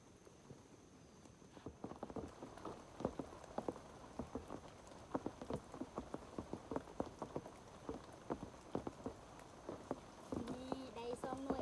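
Rain falls in a forest during foraging, with faint, uneven drops pattering steadily on leaves and the ground throughout, close by and soft, and a brief faint voice near the end.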